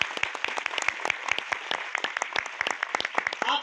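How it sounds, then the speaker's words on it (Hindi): Crowd at a DXN business meeting claps for new attendees, a moderately loud burst of distinct, fairly sparse hand claps with audible individual strikes throughout. "एक जोरदार ताली होना चाहिए आप सबके लिए।"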